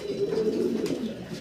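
Pigeons at a farm coo in a soft, close, continuous run of low throaty calls, steady and uninterrupted, with no talking over them.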